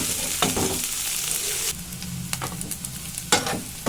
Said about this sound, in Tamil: வெங்காயம் எல்லாம் ஓரளவுக்கு நல்லா வதங்கி வரட்டும்.